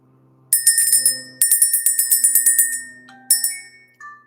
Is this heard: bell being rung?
yes